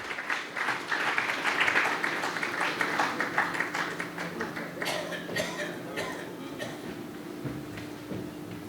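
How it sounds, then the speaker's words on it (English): Audience applause at a corporate panel discussion on procurement technology as panelists are called onto the stage; steady dense clapping throughout, louder early then slowly thinning, with faint crowd noise beneath. "Please keep applauding everyone while we also call upon the stage our panelists"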